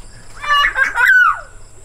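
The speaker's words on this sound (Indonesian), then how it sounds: "Ini burung bikin jengkel lama-lama." A bird at a cattle and duck farm gives a short burst of loud, close, squawking calls in two or three quick phrases, with quiet low hum around it.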